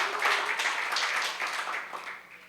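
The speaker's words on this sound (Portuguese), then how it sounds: "Uma salva de palmas aí para o Ministério de Louvor." A church congregation applauds the worship ministry, a steady wash of mid-sized crowd clapping that carries through and fades slightly at the end.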